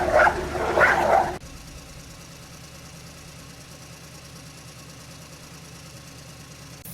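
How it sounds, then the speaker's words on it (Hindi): A dog barks loudly in two quick bursts at the start, then cuts off, leaving a quiet low engine-like hum for the rest. "वह कुत्ता अचानक उठ बैठा और अन्ना और गणेश को देखकर जोर जोर से भौंकने लगा"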